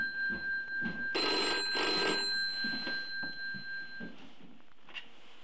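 An old-fashioned telephone bell rings indoors in two long, loud trilling bursts followed by fainter ringing, with no one speaking.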